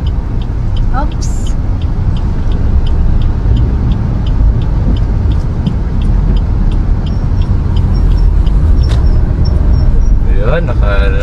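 Cars in slow traffic on a Philippine road make a constant close engine rumble and road noise, with brief squeaks and a faint horn-like tone, and voices talking now and then.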